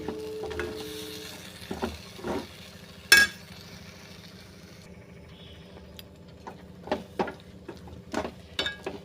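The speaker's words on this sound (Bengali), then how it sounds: "বেশ সুন্দর করে ভেজে নিচ্ছি এটা কিন্তু তল থেকে নাড়তে হবে ভালো করে" Radhaballavi dough frying and being stirred in a pan, with a soft continuous sizzle under scattered scraping clicks of a spoon against the pan bottom and a sharper knock near the middle.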